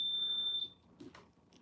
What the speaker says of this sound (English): Her REM pod is beeping.